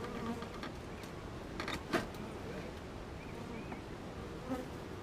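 Honey bees buzzing steadily around an opened beehive during a super check, a dense continuous drone close by with occasional louder passes near the microphone.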